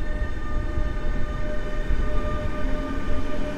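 A Traxx EU47 electric locomotive pulls a Koleje Mazowieckie train away from a station under construction in Warsaw, with a steady low rumble and electric whine heard at moderate distance, continuous throughout.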